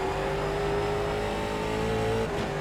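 A late model race car engine from the iRacing sim at Lanier National Speedway holds a steady, loud drone through a corner, its pitch easing slightly as the car rolls through, close and continuous.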